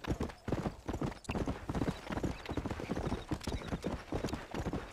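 A horse in the Red Dead Redemption video game clip-clops along in a steady, rhythmic run of close hoof strikes that continues throughout.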